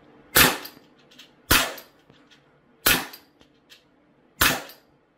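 Four sharp, snappy shots from a tan Sig Sauer P320 4.5 mm BB air pistol with a rotary magazine, evenly spaced about a second apart, each a crisp close crack with a short tail.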